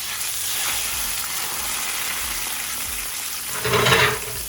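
Salmon frying skin side down in a pan gives a steady close sizzle with a brief louder hiss burst near the end.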